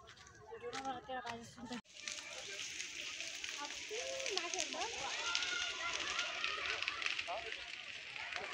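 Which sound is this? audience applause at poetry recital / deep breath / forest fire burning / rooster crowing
forest fire burning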